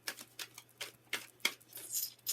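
Tarot cards being shuffled by hand, a series of soft, quick riffling bursts close to the microphone, quiet and without any talking.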